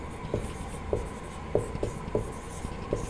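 During a lecture, writing on a board makes short, evenly spaced taps and scratches, about six strokes in a steady rhythm against a quiet classroom background.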